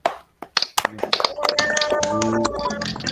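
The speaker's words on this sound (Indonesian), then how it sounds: "mana tepuk tangannya anak-anak" Children in an Indonesian classroom clap after singing a song, starting with a few scattered sharp claps that build into a quick irregular patter, with a voice speaking over it.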